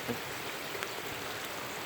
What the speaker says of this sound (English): The water is just pouring down.